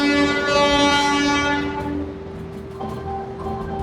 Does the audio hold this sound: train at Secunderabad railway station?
yes